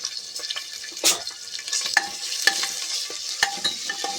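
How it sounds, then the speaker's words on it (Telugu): Ginger-garlic paste fries in oil in a pan for a mutton curry, crackling and sizzling steadily close up, with brief spatula scrapes and taps breaking in now and then. "కొంచెం అల్లం వెల్లుల్లి ముద్ద వేస్తే టేస్ట్ బాగుంటుందండి."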